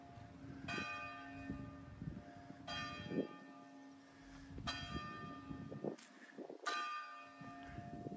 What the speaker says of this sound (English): Cue the church bell.